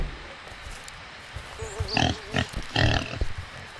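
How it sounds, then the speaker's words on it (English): Pigs in the Mold horror video game give several short close grunting oinks in quick succession over a low background hum. "I'm going to feed the pigs."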